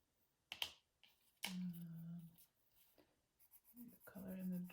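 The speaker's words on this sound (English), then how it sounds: "Kind of coloring over the gray." A neon pink colored pencil scratches across paper, coloring over gray. It comes in short bursts of close, soft strokes separated by pauses, with a faint voice in places.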